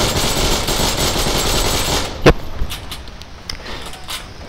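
A Thompson submachine gun fires in the Heroes and Generals video game: a loud, dense burst of rapid shots for about two seconds, followed by a sharp single crack and a few fainter distant shots.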